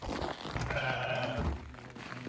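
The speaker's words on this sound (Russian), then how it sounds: "Посмотрим, как выглядит татарский баран." Tatar village ram bleating, a single wavering bleat that rises and falls at close range and stands alone with no talk over it.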